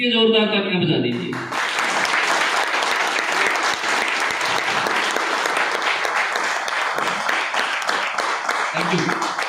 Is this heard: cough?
no